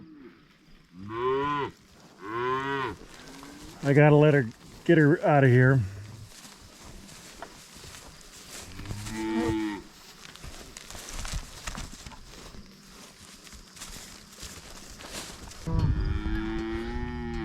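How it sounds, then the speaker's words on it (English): A cow in a pasture moos loudly for her calf, which is in another pasture, giving several strong, drawn-out calls one after another, with a person talking nearby between the calls. "I have an unhappy cow here."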